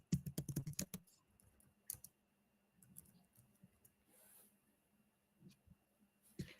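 Quick bursts of computer keyboard typing open the passage, followed by sparse, faint key taps and clicks in a quiet room with low background hum.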